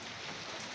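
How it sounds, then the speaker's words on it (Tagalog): Rain falling outdoors, a dense steady hiss of drops hitting surfaces, faint and continuous with no voices. "Umuulan. Kaya umuulan."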